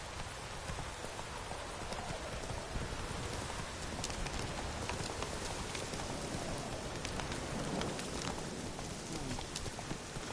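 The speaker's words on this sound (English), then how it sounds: "Fighting things in the rain might not be the best idea." Rain falls in a dark video game scene as a steady hiss of drops, with the clip-clop of horse hooves running underneath, all fairly quiet.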